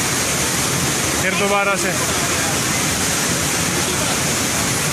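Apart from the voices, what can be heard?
Masoori Bhatta waterfall in Uttarakhand, heard from inside the waterfall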